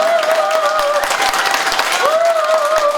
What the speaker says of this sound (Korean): 뜨거운 응원의 박수를 부탁드리겠습니다.